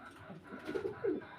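A male grizzle racer pigeon coos up close, a few soft, throaty, rolling coos rising toward the end, alone and fairly quiet.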